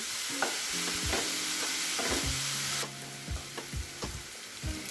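Ingredients for a chicken curry being sautéed in a pan over a medium flame, with a steady close sizzle and repeated scraping strokes of a spoon stirring against the pan, the frying hiss dropping lower partway through.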